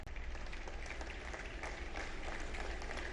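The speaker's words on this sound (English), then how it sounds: "It's worth an applause in recognition." Applause rises from the audience at a presidential annual address to the nation, a soft but steady crowd clapping heard at a distance, continuous and without speech.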